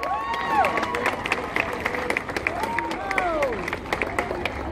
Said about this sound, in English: if we could give them all an applause